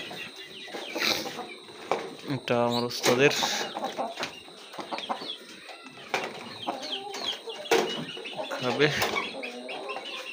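Aseel chickens cluck in short, close bursts around a rooster at feeding time, and someone talks over them.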